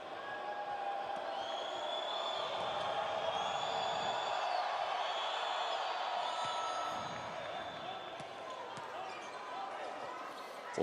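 Crowd noise rolls steadily through a basketball arena during a FIBA World Cup 2023 qualifier between Colombia and Chile as a player shoots free throws, a continuous loud murmur with whistles and shouts, with commentary talk over it.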